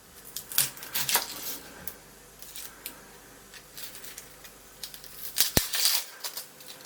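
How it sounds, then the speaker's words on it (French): Onions being peeled by hand in a kitchen: scattered crisp crackles and papery tearing of the dry skins, close up, with a few sharp clicks and quiet gaps between. "peler mes oignons"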